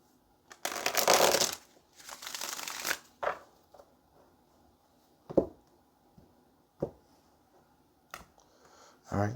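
A Twin Flame Oracle card deck is shuffled in two rustling bursts up close, followed by scattered single taps and clicks as the deck is handled.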